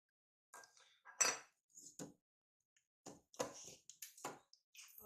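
Spoon clinking and scraping against a bowl while spices are stirred into baingan, a series of quiet, separate metallic taps and scrapes with short pauses between them.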